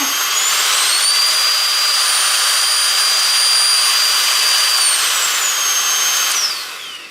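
A Bosch handheld vacuum cleaner in turbo mode whines loudly and steadily with a high motor tone that shifts in pitch, then winds down at the end.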